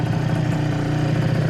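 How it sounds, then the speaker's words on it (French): Small MBK Rocket moped engine idling steadily at low revs, a close, continuous, even putter with no speech over it. "Il met un peu de temps à descendre, mais il tient le ralenti et tout"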